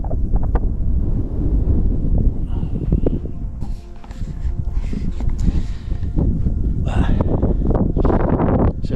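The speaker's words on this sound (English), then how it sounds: "Wind's picking up, which is not very good." Strong wind in the Kalahari buffets the microphone with a steady, loud low rumble and gusting rushes, with brief rustling.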